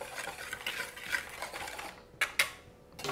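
Dry self-raising flour, caster sugar and a pinch of salt mixed in a bowl, a soft continuous scraping stir with a few sharper utensil taps near the end, close by with no talking.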